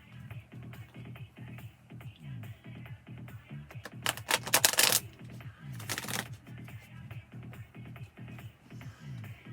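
Tarot cards are shuffled by hand in quick, regular riffling strokes close to the microphone, with a couple of louder sharp rustles partway through and no talking.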